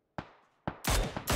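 Gunfire in the PUBG battle royale video game, several sharp shots, with a burst of rapid, loud overlapping fire toward the end.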